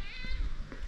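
A cat meows briefly over heavy low rumbling and broadband background noise in an outdoor rural setting, the call faint and partly masked.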